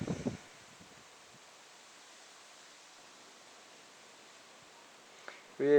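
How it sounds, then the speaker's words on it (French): Gusty wind during a thunderstorm near Grenoble in late July rushes as a steady, faint broadband hiss, with brief louder buffeting bursts at the very start and end. "Le vent qui fout le bordel"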